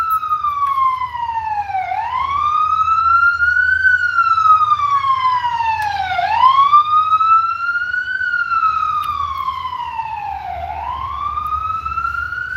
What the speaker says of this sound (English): It's New York City, a lot of sirens